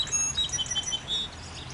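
Bird song on a morning walk along a heritage trail, a series of thin high chirps and short whistled phrases repeating over steady outdoor background noise at moderate distance.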